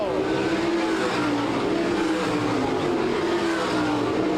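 All Stars sprint race cars roaring out of turns three and four at a Salina, Kansas dirt track, a loud continuous engine drone with shifting pitch as the pack passes, no talking.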